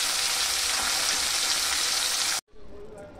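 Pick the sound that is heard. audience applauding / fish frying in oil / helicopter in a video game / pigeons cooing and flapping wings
fish frying in oil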